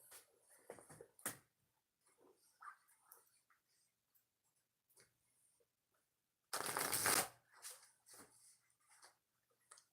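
Tarot cards are shuffled in a quiet room, with scattered small riffles and handling noises and then one loud, brisk shuffle lasting about half a second.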